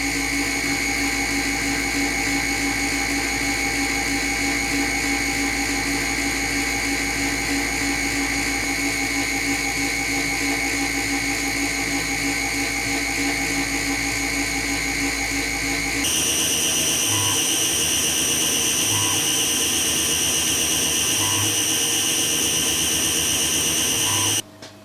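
A machine whines steadily at a high pitch as it chamfers a plastic part for a USB connector standoff, the tone shifting to a rougher, choppier grind partway through, with no voices.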